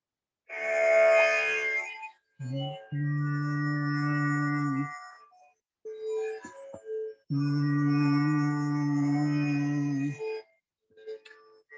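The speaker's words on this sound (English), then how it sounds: "I can demonstrate how the Raga Mohana sounds better in the flute" Long, breathy held flute notes moving through a slow melodic line in Raga Mohana, Indian classical music, with brief gaps between phrases.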